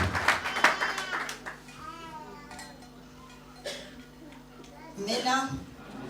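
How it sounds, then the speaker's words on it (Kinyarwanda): A church congregation claps hands in thanks to God, short bursts of clapping near the start and again toward the end, mixed with a preacher's voice speaking over the room. "Twongere dushimire Imana dukoma amashyi."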